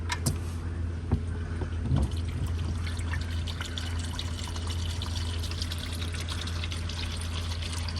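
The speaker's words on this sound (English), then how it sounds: "Let's crack it loose and drain the oil." Engine oil pours steadily from the drain plug of a Hemi Jeep Wrangler Rubicon 392 in a continuous splashing stream, accompanied by a low background hum.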